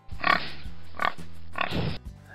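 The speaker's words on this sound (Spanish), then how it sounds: "Luego tenemos el cerdo." Pig grunting, three or four close, rough, nasal grunts in quick succession, clear and alone with no talk.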